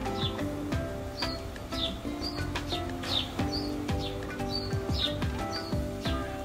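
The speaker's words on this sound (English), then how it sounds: "I don't know if you can hear the birds, but they've got a little rhythm." Small birds chirp and tweet in short repeated bursts over a faint low background hum, fairly quiet and somewhat distant.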